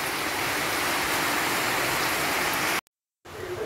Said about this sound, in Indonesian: Hujan terus, nggak ada berhentinya ya.